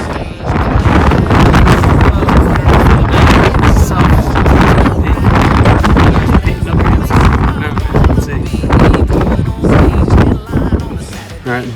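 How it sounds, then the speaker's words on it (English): Strong wind buffets the microphone on South Kinsman Peak along the Appalachian Trail, loud continuous roaring gusts that swell and dip throughout. "It was so windy, but that was South Kinsman Peak"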